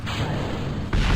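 Thrusters separating in the space flight game Kerbal Space Program, heard as a steady broadband rushing roar that swells into a louder, deeper burst near the end.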